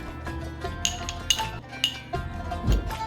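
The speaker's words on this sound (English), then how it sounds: "Take 2 tablespoons of yogurt and whisk it." Two tablespoons of yogurt being whisked in a bowl, with quick irregular clinks and taps of the utensil against the bowl and soft stirring in between, close up and with no voices.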